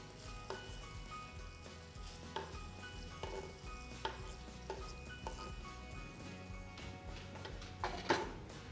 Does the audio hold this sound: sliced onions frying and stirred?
yes